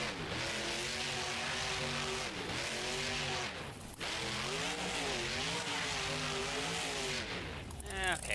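Monster truck engine in BeamNG spinning donuts, with a loud revving engine rising and falling in repeated sweeps and tires squealing, and a person talking over it.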